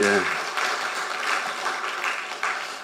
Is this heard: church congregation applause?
yes